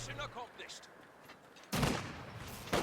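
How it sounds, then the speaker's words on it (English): A mortar firing in a real-time strategy war game between Soviet and German armies: two loud, sharp blasts land about a second apart after a brief stretch of a voice and quieter battle noise. "nice shell from that mortar"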